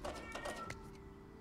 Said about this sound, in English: Bully Masku, why are you picking on a cat?